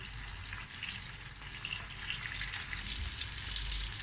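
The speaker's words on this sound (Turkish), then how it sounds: "Bir miktar yağ e, ilavesi yaptım tavama. Sonra köftelerimi dizdim. Şimdi arkalarını kıpkırmızı kızartalım." Steady, close sizzling and crackling of meatballs frying in hot oil in a pan, continuous throughout with no talking.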